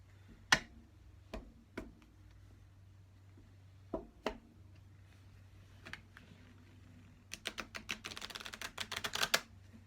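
Oracle cards being shuffled by hand: scattered soft ticks and taps, then a quick flurry of crisp riffling clicks toward the end, close and fairly quiet.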